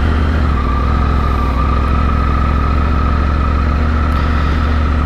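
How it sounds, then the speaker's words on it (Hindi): A motorcycle engine idles steadily up close after being started before dawn for a ride from Goa toward Mumbai, a loud, even low rumble with no talking. "Bike has been started."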